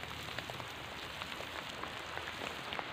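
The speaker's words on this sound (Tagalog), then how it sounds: "Ito mga idol, naulan na." Steady rain falls over an outdoor farm plot, a dense, even patter with scattered sharper drops and no voices.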